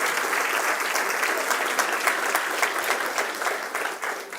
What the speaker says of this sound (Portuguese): aplauda forte o nome do Senhor Jesus